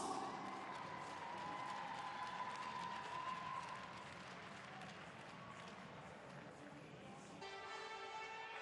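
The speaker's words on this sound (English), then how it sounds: "let's give them a round of applause" Crowd applause and cheering at a men's vault medal ceremony during the Doha World Cup gymnastics event, a steady broadband wash of clapping filling the arena with a low crowd murmur underneath, sustained throughout.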